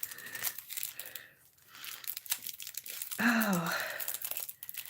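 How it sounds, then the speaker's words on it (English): Plastic packaging crinkles and tears as new makeup brushes are unwrapped, close and fairly loud, with a brief voiced sigh or exclamation partway through. "Let's just unwrap all of these."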